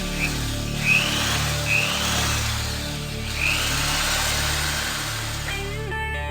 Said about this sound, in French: Meulage du châssis pour que je puisse souder une plaque de métal neuve.